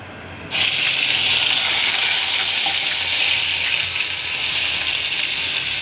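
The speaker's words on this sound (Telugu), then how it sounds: "మసాలా పేస్ట్ బాయిల్ అవుతుంది కదా బాయిల్ అవుతుంది" Masala paste with ginger and garlic hits a hot pan and erupts into a loud, steady sizzle and bubbling boil, beginning abruptly after a brief quiet moment and holding evenly close by.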